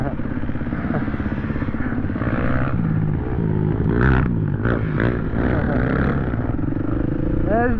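A motorcycle engine rumbles steadily throughout, with people talking over it and a brief clatter partway through.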